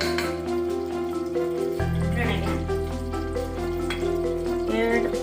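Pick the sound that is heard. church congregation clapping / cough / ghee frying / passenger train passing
ghee frying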